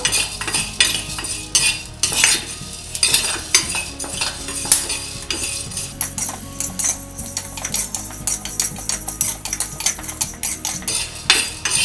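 Coriander seeds dry roasting in a pan while a cooking recipe for Madurai-style mutton chukka masala powder gets underway, heard as frequent close metal scrapes and clinks of a spoon stirring against the pan, with no talking.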